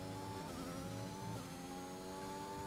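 A Formula 1 car in the F1 2021 game lapping a circuit, its high-revving engine whining steadily with gear-change pitch shifts, heard loud and continuous with no talk.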